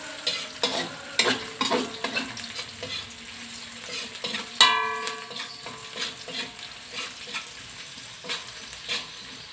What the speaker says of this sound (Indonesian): ini kita tumis sampai layu